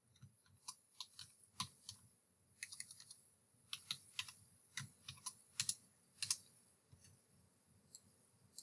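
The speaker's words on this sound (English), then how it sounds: "I hit the enter key and I move that down. Now I will type in the body tag." A computer keyboard being typed on while HTML code is written, with irregular close, crisp key clicks in short bursts and brief pauses, no talking.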